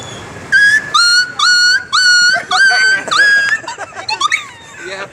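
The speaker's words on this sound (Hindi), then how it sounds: "एक कुत्ते की आवाज, जो कुत्ते के पत्थर मारते हैं।" A dog whimpers and yelps after being hit by a stone, giving a series of high, wavering cries in close succession that trail into shorter yips, heard alone and close.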